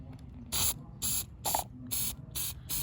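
A spray paint can gives six short, evenly spaced hissing bursts onto a small toy figure, each a sharp puff of spray separated by brief quiet gaps, close and fairly soft.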